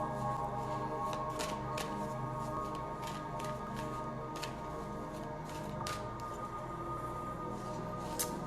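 Oracle cards being slid back into a deck and shuffled, a steady papery riffle with several sharper flicks and snaps, close and fairly quiet, with no voices.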